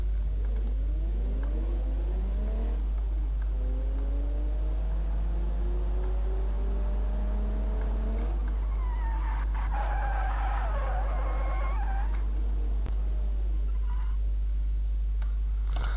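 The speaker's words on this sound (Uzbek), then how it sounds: "J tugmasini bosib mashinani harakatga keltiraman." A car in the BeamNG.drive driving game accelerates with a rising, revving engine tone, then its tires skid and squeal loudly for a few seconds before the engine settles again, with no voices.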